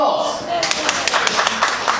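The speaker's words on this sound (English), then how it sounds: "Round of applause!" A festival audience at a cooking competition bursts into brief scattered applause, a few sharp claps building into a short patter after a moment of speech.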